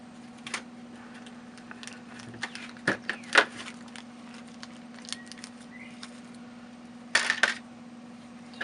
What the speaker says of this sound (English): So then we're going to open up our package of the other bolts. Take one out. Open up the washers.